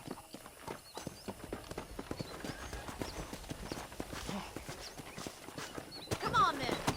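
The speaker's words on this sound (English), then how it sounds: "let's see if you can still ride a horse" Horse hooves clip-clop in a steady walking rhythm while riding in Red Dead Redemption, with a brief whinny near the end and in-game voices talking over the hoofbeats.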